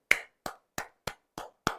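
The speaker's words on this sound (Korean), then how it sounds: "박수 한번 칠까요?" Six sharp, evenly spaced claps ring out in a quick steady rhythm, crisp and close with silence between each.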